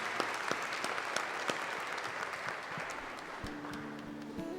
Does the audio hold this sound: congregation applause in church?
yes